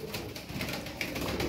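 Miski pigeons coo in soft, repeated low calls from birds kept nearby, rising and falling over a steady background hum.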